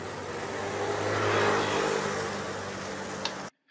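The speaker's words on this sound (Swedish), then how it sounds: "här så ser vi att vi hör en massa olika trafikbrus här i början" Steady road traffic rumbles continuously, swelling as a vehicle passes close by mid-way, then cuts off abruptly to silence near the end.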